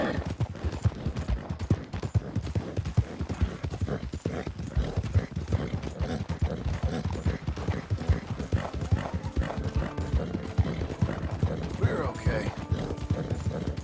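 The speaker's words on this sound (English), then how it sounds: "Ain't you a good horse?" Horse hooves clip-clop steadily in a video game, a dense, even rhythm of close hoofbeats that continues throughout, with a faint whinny and a voice talking over it.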